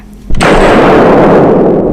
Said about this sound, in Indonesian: Tembakan kedua pun dapat ditangkap oleh mulutnya.